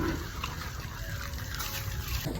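Cold water pouring steadily over a Rottweiler during a bath, a dense close splashing and trickling that holds constant for the whole stretch.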